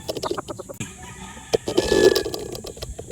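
A straight comb Gilmore gamecock rooster clucking up close in short throaty bursts, with a louder drawn-out call near the end and some background noise.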